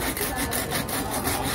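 A saw rasps back and forth in rapid, rhythmic strokes, cutting through the tough pectoral fin of a bluefin tuna up close.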